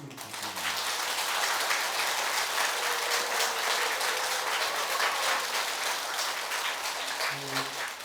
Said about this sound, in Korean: 훌륭한 강의를 해준 우리 대기선님께 큰 박수를 부탁드립니다